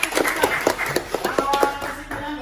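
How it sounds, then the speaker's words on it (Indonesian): A small group claps hands in a classroom setting, a brief run of distinct, uneven claps close by that thins out and stops after about two seconds, with voices faintly underneath. "Ya, itu tepuk tangan."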